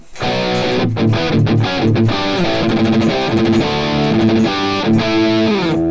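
Electric guitar through a Boss DS-1 distortion pedal, heavily distorted, plays a chugging, rhythmic riff with choppy palm-muted stops, loud and gritty, with no voices.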